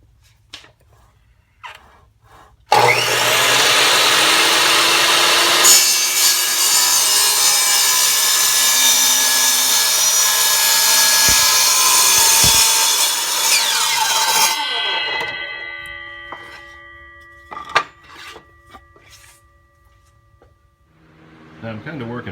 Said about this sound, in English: I have a 3-inch hole saw, those are 3-inch tubes,